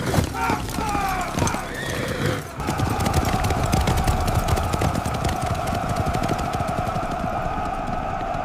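Horses whinny and hooves clatter amid a busy, loud commotion, with shouting voices and sharp bangs mixed in throughout.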